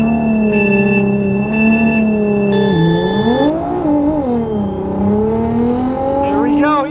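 A Nissan GT-R R35 at high speed drones loudly with a rising and falling engine tone, heard from inside or close to the car, with beeping alerts layered over it and voices under the roar.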